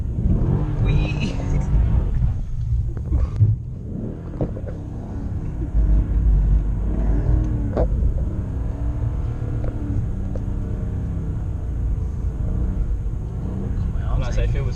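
A car drives slowly over a loose road surface, its engine rumbling steadily with throttle balanced, while people talk and laugh over the continuous low drone throughout.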